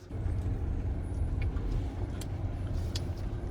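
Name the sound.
Chery Tiggo 9 PHEV SUV descending off-road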